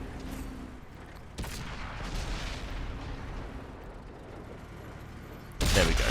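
A tank cannon shot fired at a KV-5 in the World of Tanks video game on Xbox One, a sharp loud blast near the start with another at the end, over rumbling battle ambience and engine noise.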